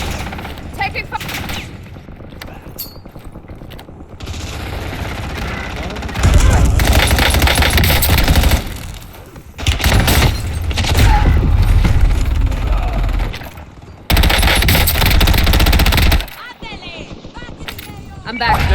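Gunfire in a Call of Duty: Warzone resurgence match comes in loud bursts of rapid shots and booms, separated by quieter stretches, with game radio voice lines in places.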